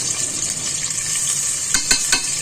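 Garlic ginger paste sizzles steadily in hot oil, with a few scraping stirs of a spoon against the pan.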